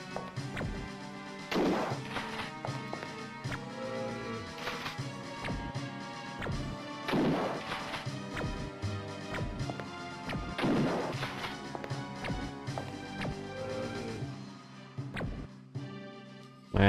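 Heavy gunshots in the survival-horror game Alone in the Dark 3, several loud booming blasts spaced a few seconds apart, each followed by a short ringing decay, with no talking between them.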